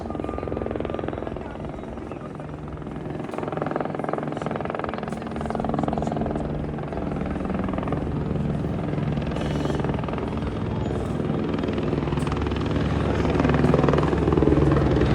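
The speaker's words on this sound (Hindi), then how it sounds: "यह है हिमालयन का हेलीकॉप्टर।" A Himalayan helicopter on a pilgrimage shuttle at Katra, its rotor and turbine roar filling the air steadily and loudly for the whole stretch, rising slightly toward the end, with a voice speaking faintly underneath.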